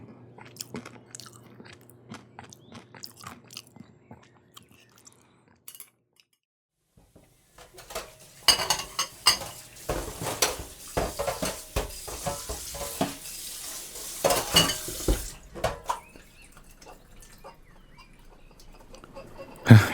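Dishes are washed up close, with pots and cutlery clinking and scraping in busy bursts after a quiet, sparse opening, and no talking.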